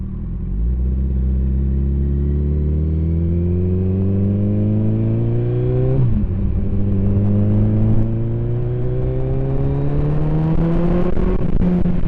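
Motorcycle riding along a road out of town, its engine rising in pitch through the gears, dropping at a shift around the middle, then climbing again, loud and close with a steady road rumble.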